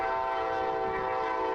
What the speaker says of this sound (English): blasting its horn for a solid 30 to 40 seconds with no break